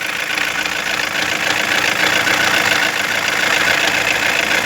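A 2016 Toyota Corolla engine running steadily with a knocking fault, a continuous close mechanical rattle and hum with no voices.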